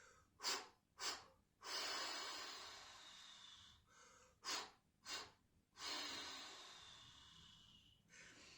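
A voice imitates a steam locomotive with breath alone: short sharp puffs in pairs, each followed by a long drawn-out hissing exhale, repeated in a chugging rhythm, close and quiet.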